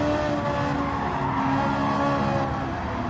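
Race car tires slide and squeal on the Autopolis circuit during a daily race, a continuous loud scrub over the engine's steady drone, sustained from start to finish with no talking.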